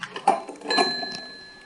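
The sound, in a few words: small old service bell ringing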